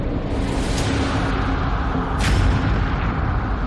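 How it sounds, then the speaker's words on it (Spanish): A meteorite airburst explosion rendered as a documentary sound effect: a dense, continuous roar with low rumble and rushing hiss, swelling into a brief sharp surge midway, loud throughout. "pudo producirse una enorme explosión en el aire justo antes de que el meteorito impactara en la Tierra"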